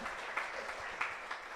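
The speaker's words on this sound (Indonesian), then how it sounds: "beri tepuk tangan buat Tuhan Yesus ya" A church congregation at a Pentecostal worship service applauds, producing a soft, fairly distant patter of clapping hands with a few sharper claps standing out briefly.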